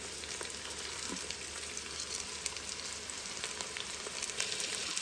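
Beans, carrots and green peas sauté in a pan, an even, continuous sizzle with faint crackles, close and moderately loud.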